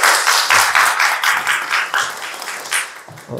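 Church congregation clapping for a member called forward, a steady patter of applause that gradually thins out over a few seconds.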